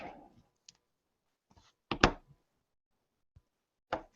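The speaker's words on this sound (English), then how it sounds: "I'm going to peel this off" A sticky sheet is peeled off a miniature hobby model, giving a short crackling rasp at close range, set among a few soft clicks and taps in an otherwise quiet room.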